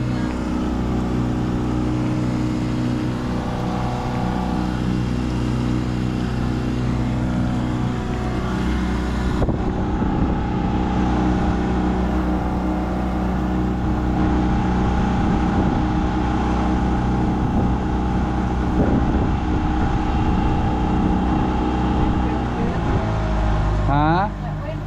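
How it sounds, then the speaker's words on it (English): Outboard motor on a small boat running slightly above idle, a steady loud drone with harmonic hum throughout, wind buffeting the microphone and people talking over it. "It's good to run that motor a little bit past idle anyway."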